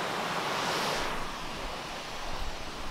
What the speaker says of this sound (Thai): นี่มีน้ำตกเล็กๆแล้วก็มีที่นั่ง